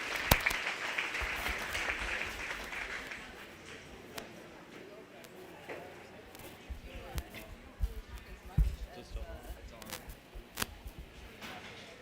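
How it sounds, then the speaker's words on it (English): Audience applause for contestants at a 4-H/FFA youth cattle show, a brief burst of clapping that fades quickly, followed by scattered claps, bumps and voices in a large show arena. "How about one big last round of applause for our contestants"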